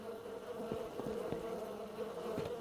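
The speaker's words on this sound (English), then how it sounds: "Why are there bees over here?" A steady insect drone of bees buzzing in the video game Rusting Away, continuous and moderately quiet with a few faint clicks and no speech.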